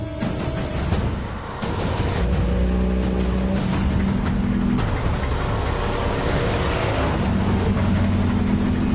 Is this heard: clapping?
no